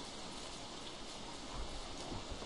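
Rain falling in the survival game Don't Starve, a steady dense hiss with soft pattering that continues without a break and sits at a moderate, even level.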